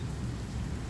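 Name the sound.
rain and thunderstorm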